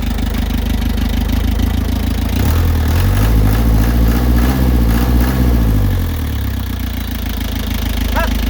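A Hino truck's diesel engine runs close by with a loud, steady rumble, swelling into a rev midway before settling back to idle, with no talking over it.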